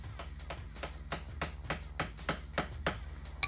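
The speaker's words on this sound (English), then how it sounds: "You can hear it starting to crack open. The RTV loosening up, starts to get a little hollow." A transmission case being pried open as its RTV sealant cracks loose, heard as a steady series of sharp, hollow knocks and taps repeating roughly every quarter second, fairly close and alone.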